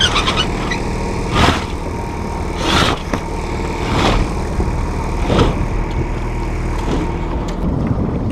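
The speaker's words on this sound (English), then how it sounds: "We motor off the beach, out into the channel" Steady low drone of a small outboard-type motor pushing a small 1964 vintage sailboat off a beach into a channel, continuous and fairly close, with a few brief thumps and splashes over it.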